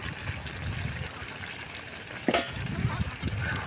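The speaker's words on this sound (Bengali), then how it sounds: "আলতো হাতে একটু নাড়াচাড়া করে নিব। মাছগুলা মশলার সাথে মিক্সড করে দিব" Fish pieces gently turned in spice paste with potatoes in a pan for sonapata fish jhol, giving a low steady sizzle with soft scraping stir strokes and one sharper clack midway.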